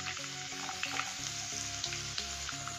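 Garlic and ginger fry in hot oil for green chilli chicken, a close, steady crackling sizzle with a low rhythmic hum beneath and scattered small pops.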